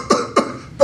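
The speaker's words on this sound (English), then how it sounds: "I was just clearing my throat" A person clears their throat, two short rough bursts followed by the start of a third in under a second, close and fairly loud, with no talking.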